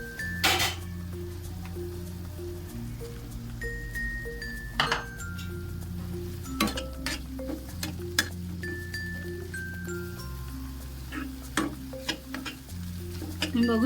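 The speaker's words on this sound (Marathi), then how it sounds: "आता आपण याच्यामध्ये टोमॅटो ऍड करूया." Tomatoes frying with browned onion in a pan for karela sabji, a faint sizzle under repeated spoon stirs and clinks against the pan, with a low steady hum in the background and no talking.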